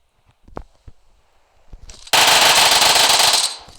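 Machine gun fire in PUBG Mobile: after a few scattered quiet clicks and footsteps, a loud, rapid sustained burst of automatic shots erupts and runs for over a second before cutting off.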